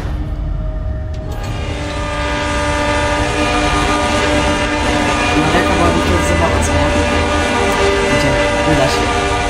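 A train rumbles past with a sustained horn blast and rolling wheel clatter, loud and close, building in intensity as it goes by.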